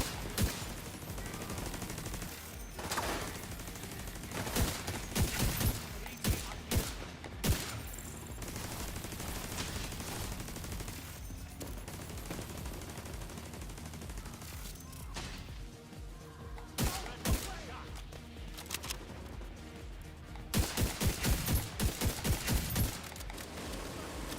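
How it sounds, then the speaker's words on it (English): Gunfire in The Division 2 as a heavily armored hostile shoots from a distance; bursts of shots and sharp cracks come in irregular clusters, ending in a rapid rattling volley. "That guy's shooting me from way back there."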